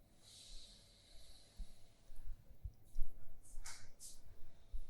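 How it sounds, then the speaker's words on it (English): Slow, soft breaths drawn and released through the nose during a yoga class, quiet and close, with a few louder snort-like exhales and faint clicks. "Deep breaths here."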